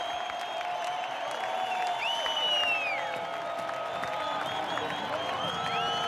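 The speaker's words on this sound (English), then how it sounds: "Huge crowds await the runners back in Bellingham." A large crowd in Bellingham cheers and applauds as mountain runners arrive, a steady, dense roar with whistles and shouts rising above it throughout.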